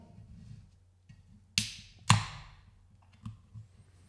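A couple of sharp metallic clicks and a brief hiss come up close in a quiet room as a can of craft lager is opened, followed by fainter taps.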